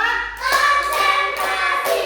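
A class of children clapping hands together on a teacher's count in a classroom, a few loud group claps in a row with voices mixed in.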